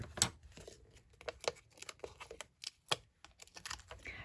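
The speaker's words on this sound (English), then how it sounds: "I'm just going to snip a couple pieces here" Scissors snip small pieces of adhesive dimensionals for a handmade Stampin' Up! card, giving quick, quiet, irregular clicks and snips close to the listener. No voices are heard.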